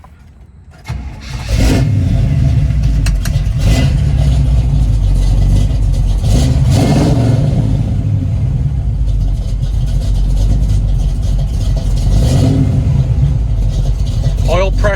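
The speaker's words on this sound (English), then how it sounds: "So what I'm going to do is fire up the car. You can listen to the motor. It's a 350." A 1971 Chevrolet Nova with a 350 V8 and M21 four-speed cranks briefly, fires up, and settles into a loud, deep, lumpy idle with a few small revs, while someone talks over it.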